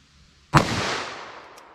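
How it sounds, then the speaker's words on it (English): One sharp, loud crack from a .327 Federal Magnum firing Federal Hydra-Shok ammunition, followed by a brief echoing decay that fades over about a second, alone with no talk. "Let's hit that with our 327 Federal Magnum."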